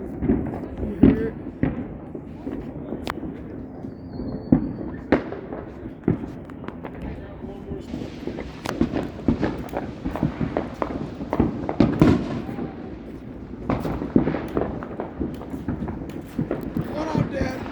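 Backyard Fourth of July fireworks at a home, with repeated booms and sharp firecracker pops at irregular intervals, some near and some farther off, while people talk over them.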